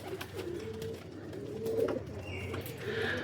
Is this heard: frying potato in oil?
no